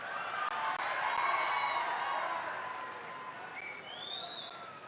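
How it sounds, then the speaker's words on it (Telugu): An audience at a National Cultural Festival claps in sustained applause, a dense steady roar of hands that eases slightly toward the end, with a rising whistle near the close. "ఓన్లీ సోమ వీర్రాజుకు మాత్రమే చప్పట్లు కొడుతున్నారు ఇక్కడ"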